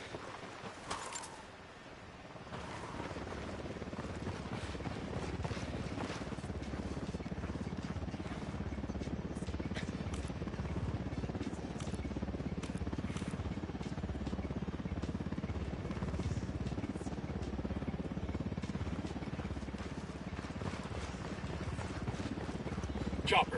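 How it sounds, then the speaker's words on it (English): A helicopter approaches in the video game Ghost Recon Wildlands as a steady low rotor rumble that holds fairly even, with game ambience and scattered clatter layered over it. "Chopper's approaching."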